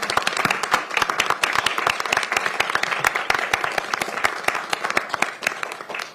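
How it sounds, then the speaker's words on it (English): An audience at a council meeting applauds, dense steady clapping from many hands at once, sustained and fairly loud throughout with no letup. "Let's give them a round of applause"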